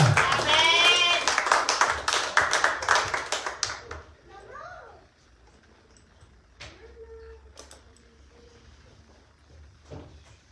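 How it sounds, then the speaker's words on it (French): A church congregation applauds and cheers loudly for about four seconds, dense clapping mixed with shouting voices, then the noise fades to quiet room sound with a few scattered taps. "j'aimerais qu'on acclame très fort le Seigneur pour son serviteur"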